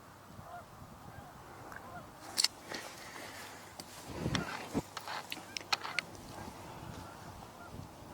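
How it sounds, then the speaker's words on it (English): A flock of Canada geese passing high overhead, their distant honks coming in brief bursts over steady outdoor background noise, with no talking. "Canada geese, by the looks of it."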